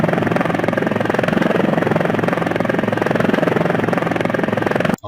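A helicopter sound effect plays as a steady, loud rotor drone with a fine rapid thumping pulse throughout, cutting off abruptly at the end.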